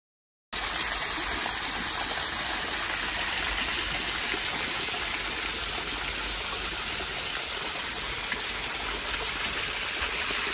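River Croal, polluted by a sewage leak, flowing steadily as a continuous broadband rush of water, close and even throughout without talk.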